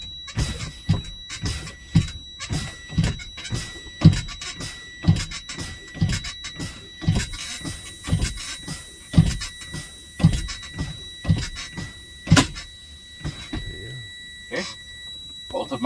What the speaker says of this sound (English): Both of my spring brakes have popped out, probably about 30 psi.